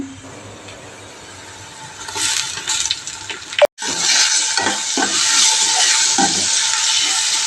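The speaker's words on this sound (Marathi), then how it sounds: "त्यानंतर आता छान परतवून घेऊया" Spiced rice masala sautés in a steel kadhai, a quiet start rising into loud, hissing sizzle and scraping stirs, with a brief break midway before the frying continues strongly.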